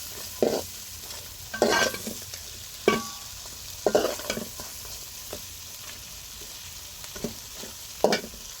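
Shrimp fry in oil in a pan on a gas stove, a soft steady sizzle broken by several sharp clattering bursts of stirring, with no talking.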